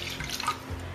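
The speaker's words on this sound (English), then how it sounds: "Into this pan I am going to add in my milk" Milk pouring into a pan for eggless vanilla ice cream, a soft continuous liquid splash and trickle, fairly quiet and steady with no talking.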